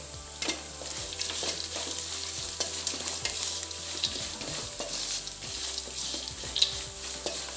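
Lemon rice ingredients with salt and turmeric fry in a pan, a continuous close sizzle broken by scraping stirs and light clinks throughout, with no voices.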